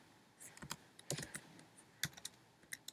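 Keys clack on a computer keyboard in short uneven bursts, a quick run of close, crisp taps with small pauses between them.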